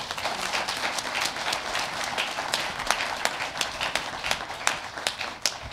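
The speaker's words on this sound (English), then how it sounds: "So let's give him a round of applause." A crowd applauding indoors at a panel discussion, steady clapping from many hands sustained throughout, moderately loud with no voices standing out.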